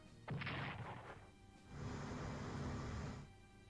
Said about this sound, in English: British aircraft carrier bombing the Tirpitz in the channel, doing some pretty heavy damage.